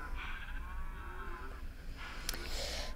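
Cows mooing in version 1.5.1 of the Andrew game mod: long, drawn-out moos overlap one another at a steady, fairly close level, with a brief sharp click near the end.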